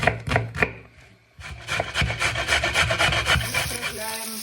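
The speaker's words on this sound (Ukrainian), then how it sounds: "Цибульку нарізаємо дрібненько, моркву натираємо або теж нарізаємо" Knife chopping onion finely and grating carrot on a board for French-style soup, giving a run of quick, close, uneven wooden taps and rasping scrapes with no talk.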